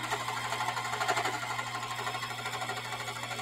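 A sewing machine runs steadily while stitching an eighth-inch seam on a spring tote bag. It makes a close, continuous rapid whirring chatter of even stitches, with no voice over it.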